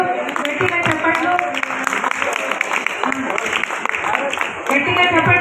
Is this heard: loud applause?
yes